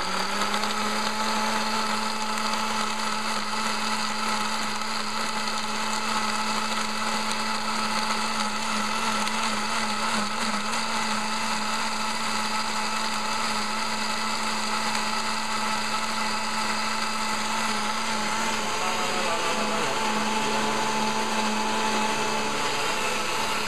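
A blender whirs steadily on its liquefy setting, a continuous loud motor drone with a high whine that holds even for the whole stretch and shifts slightly in pitch near the end.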